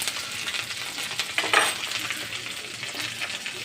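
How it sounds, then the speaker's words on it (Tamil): Mustard seeds, curry leaves and coriander fry in hot sesame oil for a dried-fish stir-fry, a steady close crackling sizzle with a brief louder stir burst midway. "எண்ணெய் வச்சு கடுகு போட்டுங்க கருவேப்பில் கொஞ்சம் கொத்தமல்லி கொஞ்சம் கட் பண்ணி வச்சுட்டு போடுங்க நல்லா வதங்கட்டும்"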